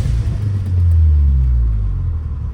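A VW car accelerating on the road, a heavy low engine rumble that swells and then eases slightly, heard from inside the cabin, loud and close.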